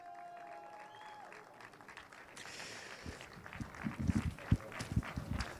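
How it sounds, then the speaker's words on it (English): Applause for the Cup 1 podium finishers at a Winter Series motor racing event at Portimão breaks out after a few quiet seconds, scattered claps swelling toward the end, mid-distance and moderately loud. "a big round of applause, everyone, for our Cup 1 podium"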